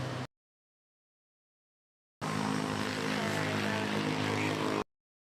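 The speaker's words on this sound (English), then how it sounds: "Air Asia arriving from Bangkok, DMK. On the A320, Joey." Air Asia Airbus A320 arriving at Manila airport, a loud jet roar heard in two stretches separated by a silent gap, the longer burst steady before cutting off abruptly.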